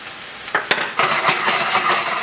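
Thin slices of lemongrass beef sizzle in a lightly oiled non-stick pan, a steady close frying hiss broken by a couple of sharp knocks and scrapes as the meat is moved.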